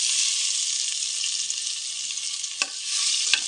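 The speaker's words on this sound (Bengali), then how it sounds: "আদা থেতো দিয়ে দিচ্ছি।" Crushed ginger hits hot oil already tempered with dried red chillies and five-spice, giving a loud, even hiss with two brief clatters near the end.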